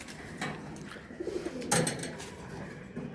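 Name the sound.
Jalali pigeon cooing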